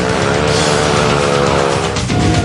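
Motorcycle engine roaring hard during stunt riding at the XDL stunt championship at Buddh Circuit, loud and continuous with sustained high revs and a slight dip near the end.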